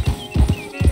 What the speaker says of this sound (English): I'll be heading to the stable in Blackwater. And I'm gonna buy me a new horse